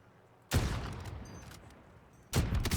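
Two loud, booming sniper rifle shots fired at a helicopter in a video game, each with a long rumbling tail, close and heavy, with no talk over them.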